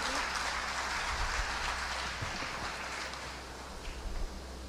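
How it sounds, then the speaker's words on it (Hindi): Audience applause welcoming a company chairman at a finance company event, a broad steady wash of clapping from a crowd that continues throughout, gradually thinning toward the end. "एक बार जबरदस्त तालियां होनी चाहिए हमारे"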